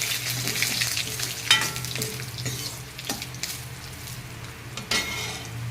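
Bay leaves, panch phoron and black mustard seeds fry in hot oil for a sour green-mango dal, producing continuous crackling sizzle with occasional sharp pops and utensil clinks, close and moderately loud.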